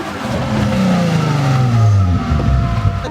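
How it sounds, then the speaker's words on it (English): A Nissan 350Z engine revs hard during a burnout attempt, its pitch sweeping downward as the revs fall and then holding a steady loud drone, close and continuous with no talking. "Kid can't even do a burnout."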